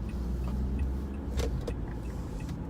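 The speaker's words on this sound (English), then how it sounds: "now I'm driving around after work" A car drives along the road with a steady low rumble of engine and tyre noise from inside the cabin, plus a few soft clicks and rattles.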